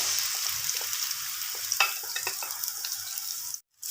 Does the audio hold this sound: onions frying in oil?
yes